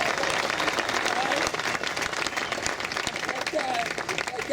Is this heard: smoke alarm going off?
no